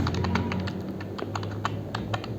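Rapid, steady keystrokes on a computer keyboard as C code is typed, clicks landing close together in an even, continuous rhythm with no voices.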